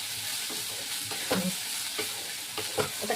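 Coconut frying with banana flower and prawns in a pan, with a soft steady sizzle and intermittent scraping stirs, close and fairly quiet, without any voices.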